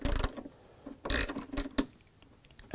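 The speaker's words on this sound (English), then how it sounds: "undo this bolt here" A 13mm wrench works a bolt on a Chrysler Crossfire soft top frame, giving a few sharp metallic ratcheting clicks in short bursts, close and fairly loud, with quiet gaps between.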